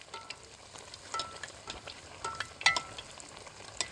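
Oil poured slowly over a naan pakora, a fried village-style flatbread stuffed with potato, sizzling steadily in a hot pan, with crackling pops and a few sharper bursts, close up and with no voices.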